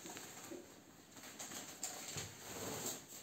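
A domestic pigeon gives soft, low coos in a loft. The sound is faint and fairly close, with light background noise and no talking.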